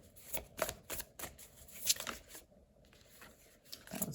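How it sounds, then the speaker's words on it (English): Tarot cards are shuffled and pulled by hand, giving a run of soft, irregular riffles and flicks close to the microphone, with a short quiet gap partway through. "So let me pull a few cards"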